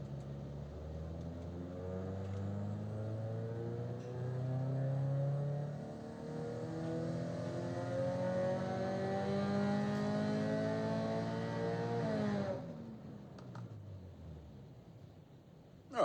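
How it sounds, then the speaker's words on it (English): A Subaru engine runs on a dyno during a tuning pull, a steady droning note that climbs smoothly in pitch as revs rise for about twelve seconds, then cuts off abruptly and fades to quiet. "Let's head over to our dyno and we'll get our engine up and running and get our first run underway."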